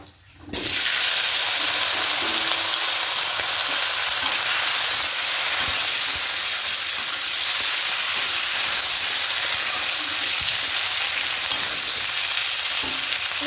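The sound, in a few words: vegetables frying in oil in a pan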